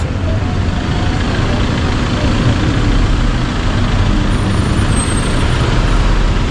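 Dense, steady roar of busy street traffic on Soi Sukhumvit 11 in Bangkok, with trucks and buses rumbling close by and the hiss of air brakes, continuous and loud throughout.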